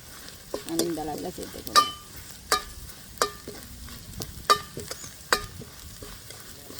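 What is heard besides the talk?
chana dal frying and stirring in oil for bonda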